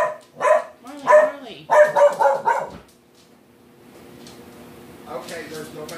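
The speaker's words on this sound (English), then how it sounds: "Is this what you're barking" A dog lets out a quick series of sharp, close barks, then falls quiet while people talk softly nearby.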